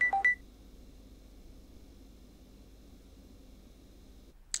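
Touch-tone phone dialing: a quick burst of three or four short, close electronic key tones at the start, then a long quiet stretch of low room hum, ending with one more brief tone.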